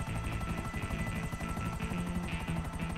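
A helicopter in GTA Online, steady rhythmic rotor thumping with a constant engine whine, loud and close throughout with no talk.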